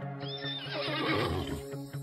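A horse gives a loud, close whinny that rises and shakes for about a second over a low rhythmic musical backing, with a few soft hoof clops around it.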